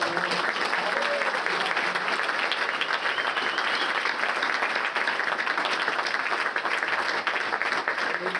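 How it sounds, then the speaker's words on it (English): Sustained round of applause from a crowd at an athletics hall of fame banquet, dense and even clapping that holds steady at a full level throughout, with faint voices underneath. "we just gave another nice round of applause"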